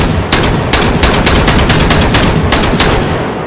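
A rapid string of loud, close shotgun shots in the VR shooter H3VR, about a dozen blasts in quick succession that fill the whole stretch without any talking.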